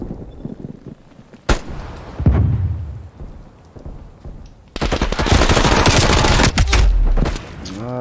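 Heavy artillery explosions in Call of Duty: Black Ops Cold War multiplayer, a sharp crack followed by a rumbling blast, then a dense, sustained barrage of loud booms and crackling debris near the listener.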